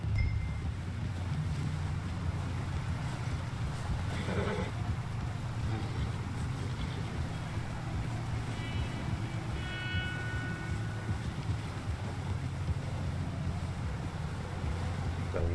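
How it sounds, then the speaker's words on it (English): Stormy night wind in the video game Red Dead Redemption 2, a steady low roar with rain-like hiss and faint distant tones, continuous throughout without speech. "Windy, stormy night, baby."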